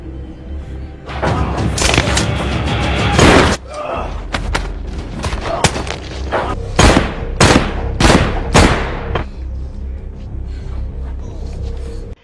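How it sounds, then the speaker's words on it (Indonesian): Gunfire in an action film shootout, loud and close, with a sustained rattling volley followed by a string of heavy separate shots and thuds that ring out one after another. "Di sana Ryan menyelinap tanpa sepengetahuan dan akhirnya terjadi aksi tembak-menembak."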